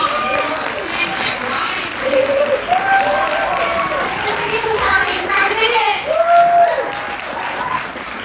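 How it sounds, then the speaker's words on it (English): An audience at a graphic novel release panel applauds in a sustained, busy wash of clapping, with voices calling out and chattering over it throughout. "Will you please get a round of applause?"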